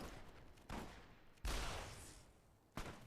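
Gunshots in Fallout New Vegas, three separate loud blasts spaced about a second apart, each with a sharp attack and a decaying reverberant tail, no talking.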